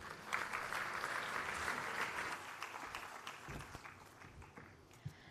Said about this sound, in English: can we give a better round of applause to Dr. Mohan Pathirana?